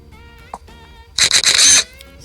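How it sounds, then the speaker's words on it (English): A DJI Mavic Air camera shutter fires three quick times in a row, crisp mechanical clicks standing out over a quiet background hum. "if I just hit the shutter right now and take these shots"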